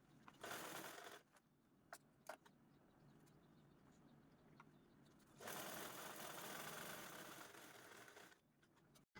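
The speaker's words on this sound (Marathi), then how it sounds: "तर चला लगेचच हा बॉटमचा बेस स्टिच करून घेऊ" A sewing machine stitches the bottom seam of a cloth bag made from a blouse piece, running in two loud continuous bursts with a quieter pause between them.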